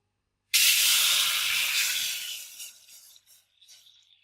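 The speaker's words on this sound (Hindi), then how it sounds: "उसमें हम दूध ऐड कर लेंगे।" Milk poured into a pot for making ginger chai, a sudden steady hissing sizzle that starts loud and close, then tapers and breaks into fainter sputters over a few seconds, with no talk.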